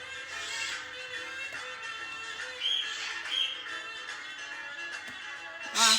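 A pet bird squawks and chirps faintly in a quiet room, with scattered short calls and a louder burst near the end over a soft background.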